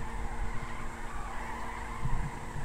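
A car drifts in GTA Online, its engine droning steadily with a rough, continuous tire scrub underneath, loud and close throughout with no clear breaks.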